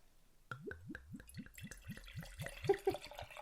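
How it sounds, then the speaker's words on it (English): A thick strawberry daiquiri is poured, giving a rhythmic series of about a dozen close glugging plops that rise in pitch as the glass fills, fairly quiet with no talk. "Just going to pour myself another drink."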